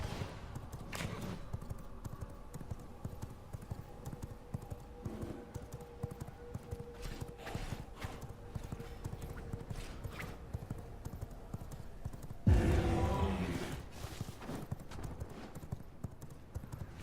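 A horse gallops in the game V Rising with steady, fast clip-clop hoofbeats under faint ambient music and a brief thump near the end.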